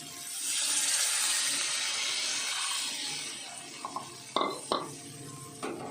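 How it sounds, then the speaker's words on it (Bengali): Hot water poured into sizzling masala in a pan for a potato and prawn curry, a loud hiss and bubbling burst that gradually fades, followed by a few clinks of a spoon against the pot, close. "এবার 1 কাপ গরম জল দিয়ে দেব।"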